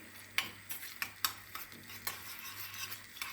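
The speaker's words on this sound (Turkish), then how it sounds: "Salçamızı güzel kavuralım ki salçamızın üzerine sos çiğ kokusu olmasın" Tomato paste is sautéed in a pan while being stirred, with soft utensil scrapes and taps repeating irregularly over a faint sizzle, close and quiet.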